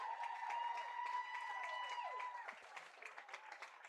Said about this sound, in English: Everybody's cheering and clapping.